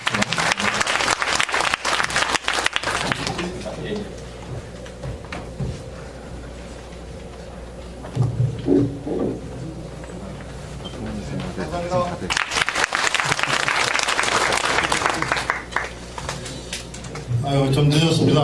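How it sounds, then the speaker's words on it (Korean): Audience applause at a festival open conference hall, broad clapping bursts opening and closing the stretch with a quieter spoken passage between, the crowd's clapping fairly loud and full. "큰 박수를 보내주십시오"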